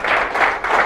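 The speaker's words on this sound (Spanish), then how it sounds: "Denle un aplauso al Señor" A church congregation claps in a short burst of applause, a loud, dense wash of hand claps with slight rhythmic swells. It sounds near, with no talk.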